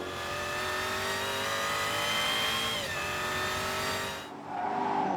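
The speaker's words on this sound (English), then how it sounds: "she's off in a cloud of V8 crackle and fury and immediately onto the Isn't Straight." A Jaguar XE Project 8 with its 592-horsepower V8 accelerates hard, a loud, close, sustained rising engine howl with a brief shift dip near the middle. It cuts off abruptly at the end.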